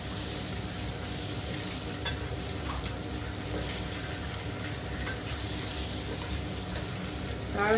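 Steady low sizzling of eggs and potatoes frying in a pan, browning as they cook, with occasional scraping and clicking from stirring over the constant hiss.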